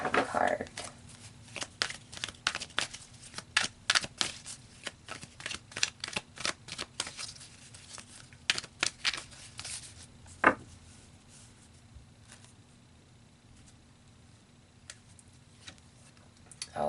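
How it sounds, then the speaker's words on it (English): Tarot cards are shuffled in quick irregular riffles and taps before advice and outcome cards are pulled, close and fairly faint, with a quieter spell near the end. "So let's pull you an advice card and an outcome card."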